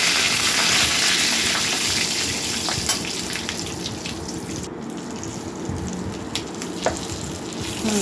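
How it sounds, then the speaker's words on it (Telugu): Dried red chillies and curry leaves sputter in hot oil for a tempering, a continuous crackling sizzle that starts loud and settles slightly, with scattered pops and light stirring clicks, close up and without talk. "అది వేగిన తర్వాత ఎండుమిర్చి, కరివేపాకు కూడా వేసుకొని చిటికెడు పసుపు కూడా వేసుకోవాలి"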